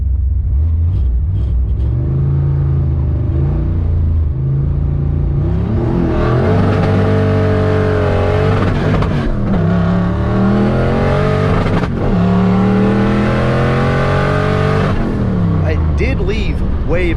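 A drag race car launches with a slipping clutch and spinning tires, the engine roaring loudly and close as revs climb and waver in repeated surges, a talking voice partly mixed in.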